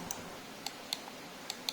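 Five sharp, close right-button clicks from an ADATA XPG Primer gaming mouse sound at uneven intervals, each a single crisp tick against near silence.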